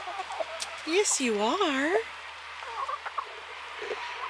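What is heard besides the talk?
rooster clucking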